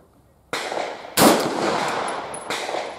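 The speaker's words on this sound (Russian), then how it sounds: "вот сейчас вот первый выстрел с нового ствола" A VPO-209 rifle fires its first shot through a new barrel: a sharp, loud report with a broadband crack and decaying ring, preceded by a softer mechanical clack and followed by another metallic clack of the action cycling.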